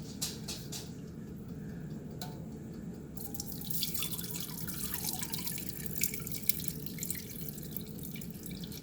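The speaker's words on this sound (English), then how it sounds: "I'm going to strain it into a bowl and try not to burn myself" Boiled elderberry syrup strained into a bowl, a soft steady trickle and pour of liquid with small drips and splashes, quiet and close, running continuously.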